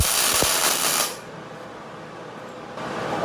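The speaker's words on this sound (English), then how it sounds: "And that's called a tack weld." A tack weld on a metal arch: a loud crackling hiss for about a second, then a quieter background hum before the noise rises again.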